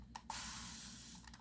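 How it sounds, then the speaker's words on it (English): Short bursts of isopropyl alcohol sprayed onto resin molds: a brief hiss, then a sustained close spray lasting about a second, quiet with no talk. "So spraying the molds with some isopropyl alcohol"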